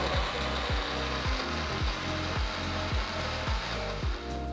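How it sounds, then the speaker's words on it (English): A kitchen blender whirring through mango, sugar, cardamom and saffron, a loud motor drone with repeated pulsing surges as the jar's contents churn, close by. "First I'm blending everything together."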